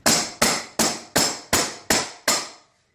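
Seven evenly spaced sharp taps tap floor boards down into place during floor work, each a crisp close knock with a short decay, at a steady rhythm of roughly two per second.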